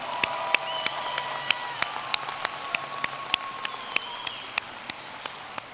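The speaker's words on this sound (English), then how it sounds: "I want to ask that we give the graduates another round of applause" Audience at a college commencement ceremony applauding the graduates, sustained clapping from a large crowd heard at a distance, with sharp individual claps standing out and a faint murmur underneath.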